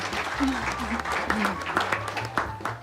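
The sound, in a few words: audience applause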